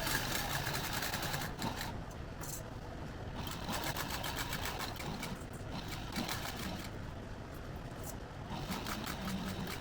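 Sewing machine running steadily while stitching a sling bag, a close, continuous mechanical whir with rapid needle chatter and a few brief pauses and restarts.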